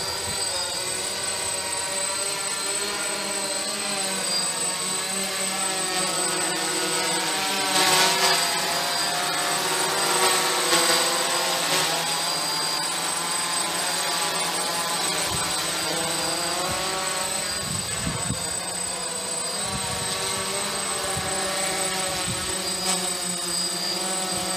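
DJI hexacopter drone hovering and then descending, a steady loud multi-rotor whine with layered propeller tones that shift slightly in pitch, heard outdoors in wind with no talking.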